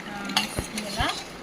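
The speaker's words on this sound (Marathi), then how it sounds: "हे बघा आता हलवते." A spoon stirs lemon sharbat in a glass, making a few close clinks and scraping swirls that pass quickly over a soft background hiss, with no talking.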